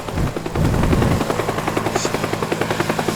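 A police helicopter in the video game Teardown, its rotor beating in a loud, steady rapid chop throughout, close and alone with no talk.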